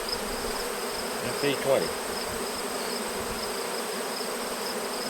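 Honeybees from a homemade hive buzz and fan near the entrance during a cell builder transfer, a steady faint insect drone with a few brief louder passes up close.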